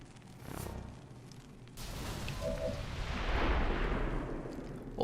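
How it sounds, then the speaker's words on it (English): Explosion in the video game XCOM 2, a sudden burst followed by a swelling roar of rumbling debris that builds and lingers for a few seconds, with no talking. "Did you guys just hear an explosion in the background?"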